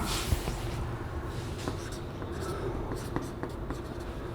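Chalk or marker scratches across a board during a physics lecture on Ohm's law, coming as short strokes and taps over steady room noise.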